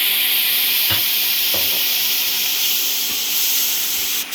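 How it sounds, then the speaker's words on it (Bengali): Fried mixed vegetables are stirred into a sizzling spice mix in a pan, giving a loud, steady hiss of frying. A few knocks of the spoon against the pan are heard. "ভেজে রাখা সবজিটা এর মধ্যে মিশিয়ে দেব।"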